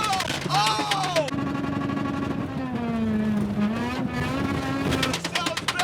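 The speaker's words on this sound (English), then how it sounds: "This is the ACDelco car coming around the curve." Race car engine roaring on a dirt track, a loud sustained growl rising and falling in pitch as cars come around a curve, with excited voices talking over it.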